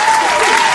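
Live audience at a podcast taping breaks into a loud, brief round of applause, a dense burst of clapping filling the moment.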